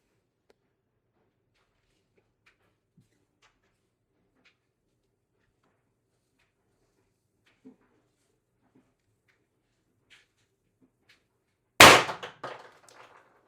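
An IntruBuster G2 air rifle with replaced o-rings and a 50mm tuning spring fires one sharp, loud shot after near silence, followed by brief rattling echoes.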